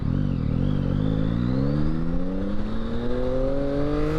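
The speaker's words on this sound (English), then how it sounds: "Alright, this is my first acceleration with the bike." A 2022 Yamaha XSR900 motorcycle accelerates hard, its engine note climbing steadily in pitch through the gears, loud and close, with no one talking.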